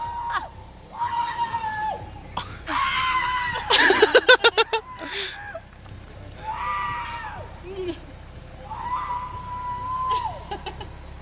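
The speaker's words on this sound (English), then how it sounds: "Those are some manly screams right there." People scream and whoop on a slingshot ride in Peru, loud bursts rising and falling with a quick series of sharp peaks midway and further shrieks spaced out after.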